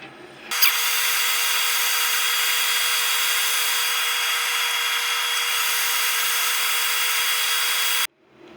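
A small wooden pot is sanded with 120 grit abrasive, a loud, even hiss that starts abruptly, runs steadily for about seven seconds up close, then cuts off.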